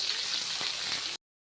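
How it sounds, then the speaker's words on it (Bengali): Sliced onions and nigella seeds fry in hot oil left over from frying fish, giving a steady close sizzle that cuts off abruptly. "পেঁয়াজ কালো জিরা ভেজে নিলাম, লাল লাল করে ভেজে নিচ্ছি"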